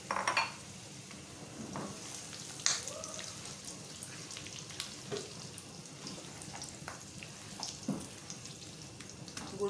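Jaggery cooks and sizzles in a pan, a soft, fairly quiet frying crackle with occasional stirring clinks and scrapes.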